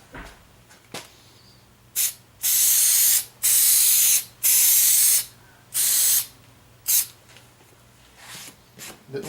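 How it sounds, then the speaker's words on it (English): Spray adhesive hisses onto the sides of a Saturn Sky seat cover in loud, close bursts, about five long sprays followed by a few shorter puffs, separated by quiet pauses. "I'm going to go ahead and spray the sides and wrap these down"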